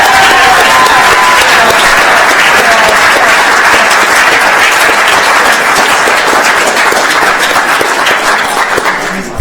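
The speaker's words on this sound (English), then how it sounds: "can we get another round of applause for our judges" Audience applause for the judges at a college elevator pitch competition, loud, continuous clapping with distinct individual claps throughout, holding strong before tapering slightly at the end.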